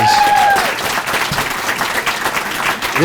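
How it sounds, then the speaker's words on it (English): A roomful of people claps steadily throughout, loud, dense applause with some crowd noise and a few voices mixed in. "Give yourself a round of applause."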